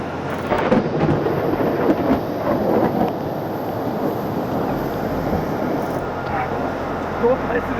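Heavy tropical rain pours steadily in Thailand, a dense, constant hiss with low rumbling underneath that fits distant thunder, while voices talk briefly over it.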